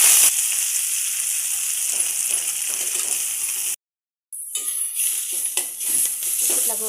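Coriander leaves go into hot oil for a traditional coriander chutney, giving a loud, steady sizzle; it breaks off for a moment, then returns with crackling and stirring.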